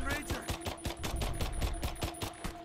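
Rapid automatic gunfire in the co-op shooter Earthfall, a steady rattling burst of evenly spaced shots lasting a few seconds, fairly quiet in the mix with game ambience beneath.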